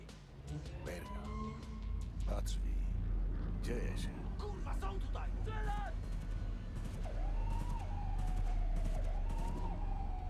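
Police sirens wail in the Cyberpunk 2077 video game, rising and falling tones heard amid busy street noise and sharp bursts, with people talking throughout.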